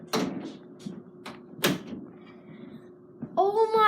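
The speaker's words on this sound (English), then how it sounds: "Let me close the door again." A door is shut in a room during a plush toy unboxing, a soft thud and a sharper knock standing out among quiet rustles, with a brief voice rising at the end.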